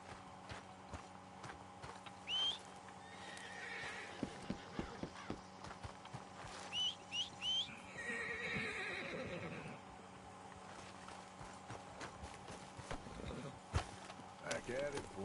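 Horse whinnies and clip-clopping hooves in the video game Red Dead Redemption 2, several neighs and a run of hoofbeats over a steady game soundtrack, with someone talking at times.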